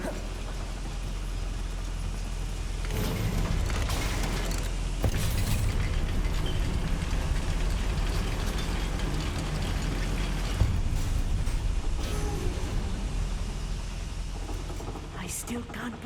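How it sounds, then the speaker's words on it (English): A mine lift mechanism in a video game runs with a loud, steady rumbling drone, a continuous mechanical grind that swells slightly partway through and holds to the end. "Look at this lift. Impressive workmanship for so simple a device."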